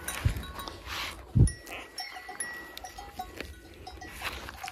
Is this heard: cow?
yes